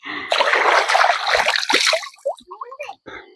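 River water running over stones splashes and sloshes loudly for about two seconds, then settles into softer trickles while people talk nearby.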